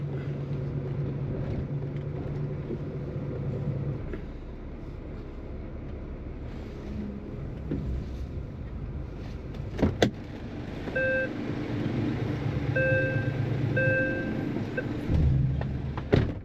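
Delivery lorry cab interior while rolling onto a weighbridge at a Sainsbury's store in Brentwood, a steady engine drone with rumbling, a sharp clunk partway, and repeated electronic beeping tones toward the end.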